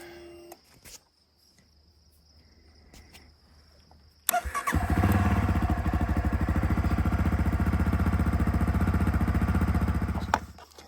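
A Honda CRF250F dirt bike engine cranks over and catches at once, settling into a loud, steady close-range running drone that holds with a fast pulsing rhythm before cutting off near the end; before that the scene is quiet, with faint clicks.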